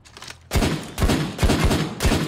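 Shotgun blasts from the Gage Shotgun Pack DLC in the video game PayDay 2: about five loud, booming shots in quick succession, each with a heavy low thump and a lingering rumble, preceded by quieter background game noise.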